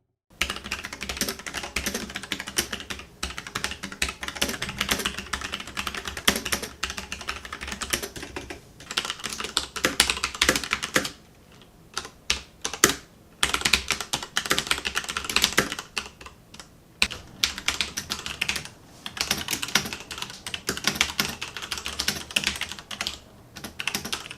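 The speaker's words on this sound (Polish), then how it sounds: "Zapraszamy tradycyjnie na krótkie demko z maszynopisania, tym razem na obydwu klawiaturach, na Logitechu i Corsairze." Fast, steady typing on Logitech G Pro and Corsair gaming keyboards, a dense run of crisp key clicks with a few brief pauses, close and alone without any talk.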